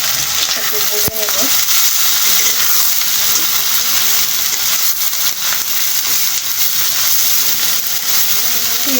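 Dried bamboo-leaf fish (shutki) fries with onion in a pan, giving a loud, steady hiss of sizzling oil that fills the whole stretch, with a few faint tool knocks and no speech.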